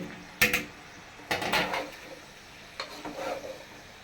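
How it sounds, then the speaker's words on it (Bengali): Mixed vegetables, including carrot, cauliflower, eggplant and cubed onion, are sautéed in a large pot with three short bursts of scraping and stirring over a faint background hiss, each lasting about half a second, close by and with no voices. "সবগুলো দিয়ে আমি আগে ভালো মতো একটু কষাই"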